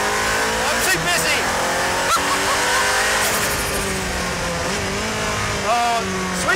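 A Nissan R90CK Le Mans race car engine screams to high revs around 8,000 RPM through repeated gear changes, loud and close, with a voice talking over it throughout.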